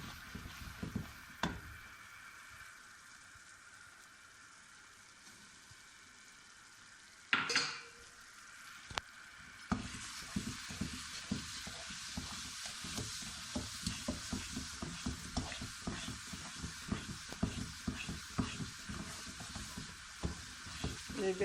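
A thickening barfi mixture with sugar just added is stirred in a hot pan, giving a continuous soft sizzle with repeated scraping strokes. One brief louder clatter breaks in partway through.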